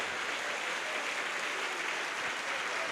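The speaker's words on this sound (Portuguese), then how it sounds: "Pode aplaudir o nome de Jesus." A church congregation breaks into loud, sustained applause during a healing and deliverance service, a thick, continuous roar of clapping with no gaps.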